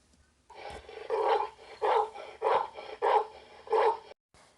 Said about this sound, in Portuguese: Esse é o som do cachorro.